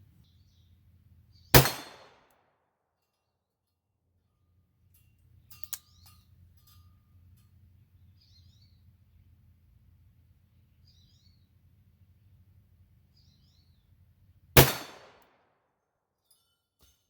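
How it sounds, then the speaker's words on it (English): Two sharp, loud gunshots from a Smith & Wesson 629 Classic .44 Magnum revolver with a 6.5-inch barrel, about thirteen seconds apart, each a cracking blast with a brief ringing decay, faint birdsong chirping outdoors in between. "First 6 shots out of my new 629 Classic"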